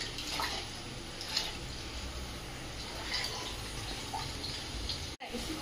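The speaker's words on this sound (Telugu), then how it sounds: "గంట ముందు నానబెట్టిన బాస్మతి బియ్యము మంచిగా కడిగి ఇప్పుడు ఈ నీళ్ళు కోసి మనం అందులో వేసేసుకోవాలి" Water poured over soaked basmati rice in a vessel as it is washed, a steady splashing wash of running liquid with soft trickles and drips, close and continuous, briefly cut off near the end.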